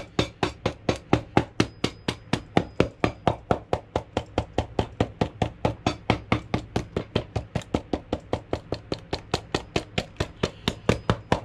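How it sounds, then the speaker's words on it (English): A hammer taps repeatedly on a protective sole guard being pressed onto the bottom of a men's Christian Louboutin shoe, dozens of quick, even, close knocks in a steady rapid rhythm with no talking. "Take the other side of my hammer and just make sure I press down right here nicely."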